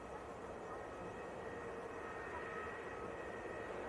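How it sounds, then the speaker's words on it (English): Distant SunExpress airliner taxiing at Manchester Airport, a steady broadband engine roar and whine held at an even level throughout, with no talk over it. "Sun Express is ready to taxi across."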